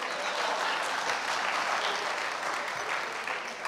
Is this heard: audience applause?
yes